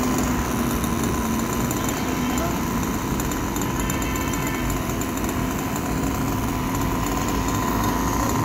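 Nitro engine of a Kyosho Neo 3.0 RC buggy running, a loud, steady high-pitched buzzing drone held at a constant pitch and close by, with voices talking over it.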